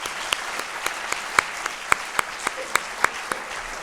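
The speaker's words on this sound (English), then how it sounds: "I would like you to give an applause to all of them" A conference audience applauds PhD session presenters at a closing awards ceremony, a dense, even round of many hands clapping, with some sharper individual claps standing out over the sustained patter.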